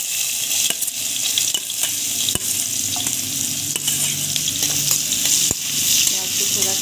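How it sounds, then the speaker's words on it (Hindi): Chopped onions frying in oil with cumin and asafoetida over a medium flame for a potato-pea masala dish, a steady close sizzle carrying on throughout, broken by a few sharp clicks of a spoon stirring against the pan. "प्याज को थोड़ा सा भूनेंगे, गैस की फ्लेम को मीडियम रखेंगे"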